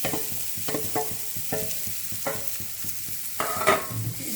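Grated potato with chopped green chilli is stirred and mixed in a frying pan, soft sizzling under a series of scraping, tapping spatula strokes, close and fairly quiet.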